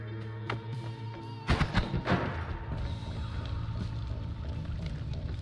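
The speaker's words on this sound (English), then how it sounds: "that explosion is more fiery than I initially thought it was" A fiery explosion in the video game Noita bursts loudly with a cluster of heavy booming thuds, then rumbles and crackles on under a dense layer of game sound.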